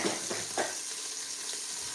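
Locust beans frying in a pan, a steady close sizzle with a few brief stirring scrapes at the start, continuous and fairly quiet.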